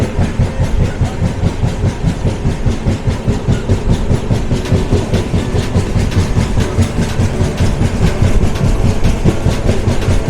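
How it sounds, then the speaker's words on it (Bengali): A train runs toward New Mal Junction through forest on the way to Kalimpong, its loud, close, continuous rumble carrying a rapid, regular clickety-clack of wheels over rail joints throughout. No voices. "এখন ট্রেন চলেছে নিউ মাল জাংশনের দিকে।"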